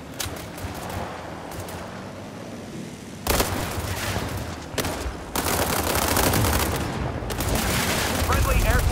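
Heavy battlefield gunfire fills a World War 3 online shooter match near a Moscow objective, with dense automatic bursts and booming blasts that grow louder and more continuous, while voices speak faintly underneath.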